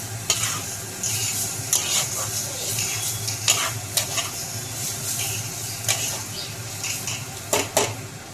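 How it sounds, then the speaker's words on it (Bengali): Cabbage being stir-fried in a wok, a constant loud sizzle broken by repeated sharp spatula scrapes and clanks against the metal at an uneven rhythm. "দেখো বাঁধাকপিটা আমার প্রায় ভাজা হয়ে এসেছে,"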